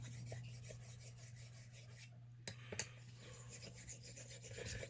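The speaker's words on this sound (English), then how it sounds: "this is just a quick hone" A blade gets a quick hone on a 4K sharpening stone, a soft rasping rub repeated in strokes with a couple of sharper scrapes and a steady hum behind.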